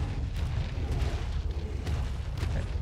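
A Magmasaur shooting fire in the game Ark, a low rumbling roar of fiery blasts with repeated bursts and crackles, loud and sustained for nearly three seconds.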